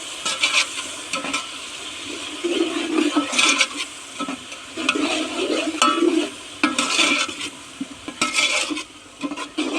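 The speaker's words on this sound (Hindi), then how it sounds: "अभी हल्का सा फ्राई करेंगे जस्ट 1 मिनट के लिए" Ginger-garlic and green chili paste fries in a pot for mutton pulao, steady sizzling broken by repeated scraping stirs of a spoon, close and fairly loud with no talking.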